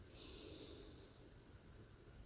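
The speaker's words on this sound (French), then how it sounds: "prenez une bonne inspiration par le nez" A deep breath drawn in through the nose during a calm sophrology relaxation exercise, a soft, close airy inhale lasting a couple of seconds, quiet and alone.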